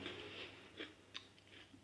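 Crunchy, slightly overdried ginger-honey gingerbread spiced with cinnamon, ginger and nutmeg is chewed close up, giving a few soft crunching bites amid quiet mouth sounds, with no talk.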